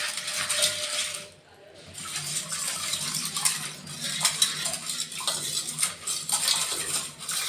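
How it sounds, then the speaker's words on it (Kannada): Small metallic clinks and jingles as silver anklets splash into water in a bowl, with light sloshing and stirring, close and fairly quiet. "ಇದು ಗೆಜ್ಜೆಯನ್ನು ಹಾಕೋತೀನಿ"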